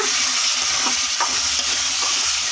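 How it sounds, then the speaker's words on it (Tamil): Tomatoes sauté in a hot pan, giving a loud, constant sizzle broken by a few soft spatula scrapes as they are stirred. "இப்போ தக்காளி நல்லா வதங்கிடுச்சு"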